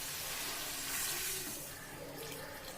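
Steady rushing of water pouring in a continuous stream into a pot, close by, with no one speaking.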